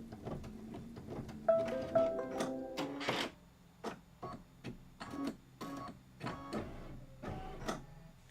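A sewing machine stitches down the center of a quilted table topper with bursts of quick, rattling needle clatter broken by short pauses, close and fairly quiet.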